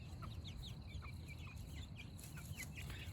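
Chickens moving out onto pasture cluck in scattered short calls over a steady low outdoor rumble, with other birds chirping faintly in the background.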